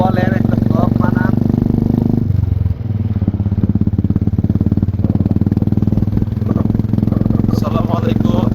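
Royal Enfield motorcycle riding from Manali toward Solang Valley, a steady mid-pitched engine drone running throughout, with a brief dip in the middle before the loud, continuous rumble resumes, with talking over it.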